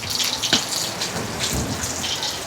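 Strong sea waves surge and rush onto the shore, seawater reaching inland near a talisay tree; a steady, loud, close wash of churning water fills the whole stretch without pause.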